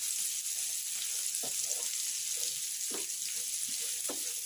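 Tender stuffed baby eggplants fry in hot oil in a pan, giving a steady, bright sizzle close by, broken by a few soft stirring scrapes, with no talking.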